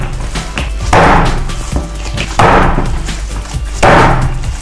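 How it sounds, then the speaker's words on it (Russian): Minced meat patty mixture is thrown down into a bowl three times at a steady pace, each a loud, close, wet thud with a slight ring from the bowl. "Но я бросаю это в миску его."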